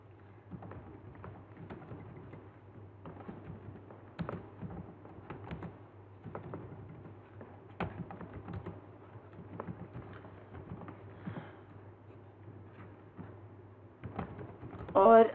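A computer keyboard is typed on in scattered, faint, close clicks and taps over a low steady hum, with a louder cluster of keystrokes at the end.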